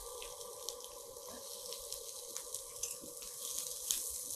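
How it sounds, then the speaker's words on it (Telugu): Capsicum frying with onion in oil in a pan, a soft steady sizzle with light scraping and stirring clicks, fairly quiet and close. "క్యాప్సికమ్ని కూడా మంచిగా ఫ్రై అవ్వనివ్వాలి"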